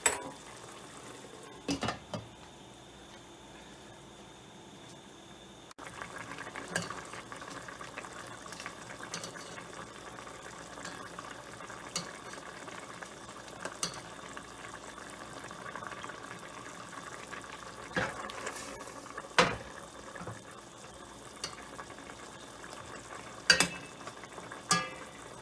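Jamaican curry chicken simmers in a pot with a soft, continuous bubbling hiss, broken now and then by faint clinks and scrapes.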